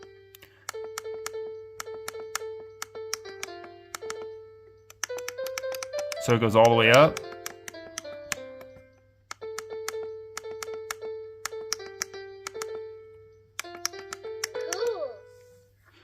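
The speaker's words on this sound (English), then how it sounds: "Press the piano keys to play." Toy piano tones from a VTech Little Apps Light-Up Tablet, played as a series of clear electronic notes, first rising and later falling, with one brief louder jingle in the middle. A person speaks briefly over it.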